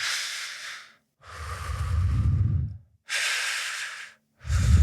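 Slow, deep breathing during a relaxation exercise, drawn in through the diaphragm: four long, close breaths alternating between airy hissing exhales and rougher, lower inhales, each lasting about a second or more with short pauses between.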